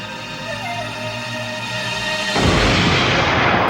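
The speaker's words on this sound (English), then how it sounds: "the core of the star collapses, setting off a gigantic explosion." A supernova explosion rendered as a sound effect: a sustained tonal drone that breaks suddenly into a loud, broad roaring blast, which then rumbles on.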